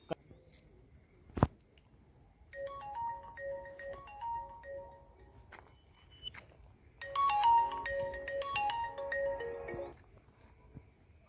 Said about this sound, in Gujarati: વેલજીને ફોન કરું પૂછી તો જોઉં